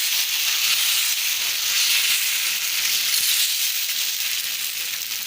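Thin dosa batter spread in a hot kadai sizzles with a continuous, loud, even hiss that holds steady throughout and fades only slightly at the end.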